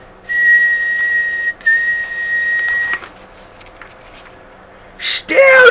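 A voice imitates a whistling tea kettle with a long, thin, steady whistle, briefly broken and resumed, then trailing off before a short rising whistle at the end.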